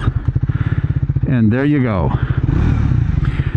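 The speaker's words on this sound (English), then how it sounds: "Sounds like a single cylinder engine." A Triumph Speed 400 single-cylinder motorcycle engine runs close by with a steady, rapid thumping pulse, while someone talks over it throughout.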